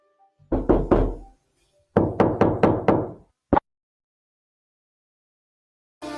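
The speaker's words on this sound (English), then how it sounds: "I knocked on the door." Knuckles rapping on a door: a quick set of three knocks, a pause, then five knocks and a single final rap, close and crisp in a quiet room.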